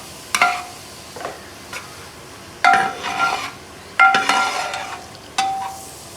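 Beef fry with garam masala simmering and thickening in its gravy is stirred, the spoon clinking against the pan in a few sharp bursts over a soft background sizzle.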